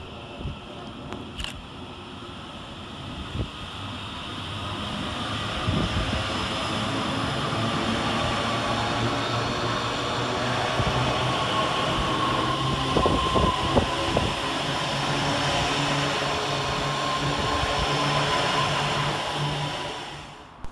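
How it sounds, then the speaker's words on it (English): A Northern class 331 electric multiple unit, two sets coupled, runs through Burnage station, a loud, sustained rumble and whine with rail clatter building and holding for about twenty seconds before fading. "Trundling next through the station will be 331019 and 331012, working 1 November 58 for Northern from Manchester Airport through to Blackpool North."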